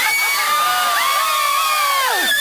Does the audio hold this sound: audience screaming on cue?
yes